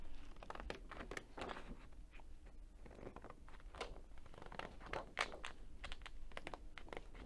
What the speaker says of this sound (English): I'm going to trim that out.